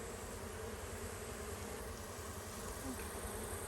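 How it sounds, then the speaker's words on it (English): Honey bees buzz steadily and densely at an open hive whose colony is short of food and eating its honey stores, a close, continuous drone with no voices. "There's a lot of bees."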